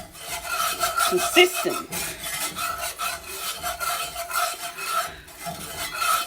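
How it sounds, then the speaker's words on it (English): A roux for country steak gravy stirred in a pan, a continuous close rasping scrape that scratches back and forth rhythmically, with a brief spoken word near the end. "I'm making a roux. I'm stirring this till it gets nice and"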